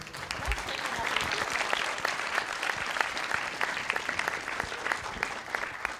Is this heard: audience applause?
yes